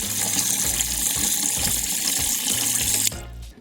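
Water from a tap pours in a steady gushing stream into an Instant Pot holding rice, a continuous close splashing fill that cuts off abruptly near the end, with no voices.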